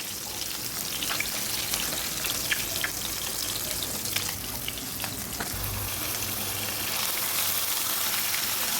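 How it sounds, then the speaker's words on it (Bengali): Catla fish frying in hot oil, a steady dense sizzle with scattered pops and crackles running the whole time, close and fairly loud with no voices. "কাতল মাছ ভেজে রান্না করছি।"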